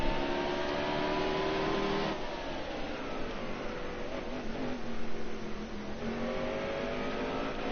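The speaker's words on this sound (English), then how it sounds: "Say, listen to my engine sounds," Race car engine in a racing video game, running at Bristol and Martinsville tracks: a loud, sustained droning whine held at high throttle, dipping in pitch around two seconds in, then rising and steadying again, with no voices.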